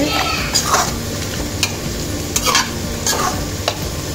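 Mutton masala stirred in a sizzling pan, a steady frying hiss broken by several sharp scraping strokes of the spoon against the pan, close and fairly loud.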